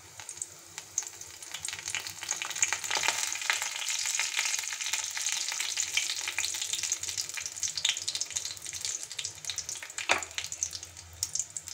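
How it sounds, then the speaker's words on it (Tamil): Mustard seeds sizzle and crackle in hot oil while cooking sambar, a dense steady frying hiss with scattered sharp pops, close up and uninterrupted. "இப்போ கடுகு வெடிச்சிருச்சு நல்லா."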